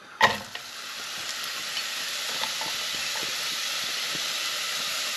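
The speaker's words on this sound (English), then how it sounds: "I've just put some fry oil and some bit of olive oil in the bottom there. And I'm going to put in my onion." Onion dropped into a pan of frying oil and olive oil gives a sudden burst of sizzle, then a steady, even hiss with occasional light spatters.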